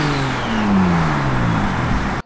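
A 600 hp Mitsubishi Mirage with a V6 turbo engine, converted with Lancer Evo 4 parts, drones loudly at close range, its pitch sliding under a steady rev before cutting off abruptly.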